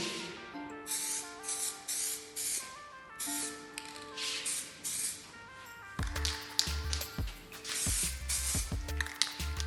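Short bursts of an aerosol spray can lay a final coat of paint on plastic car parts, hissing in repeated pulses with short gaps, then a rattling clatter and denser spraying toward the end.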